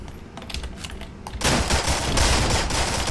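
Rapid rattling gunfire from a rail gun in a video game, a fast crackling burst that swells louder partway through and keeps going, close and harsh, with no voices.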